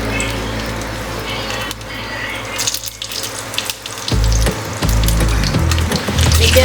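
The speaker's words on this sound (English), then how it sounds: "Now that the oil is hot, the first thing we'll put is a bit of dried chili." Dried chili dropped into hot oil for a Bengali-style mutton curry gives a steady hiss that bursts into a louder, fuller sizzle partway through and keeps going.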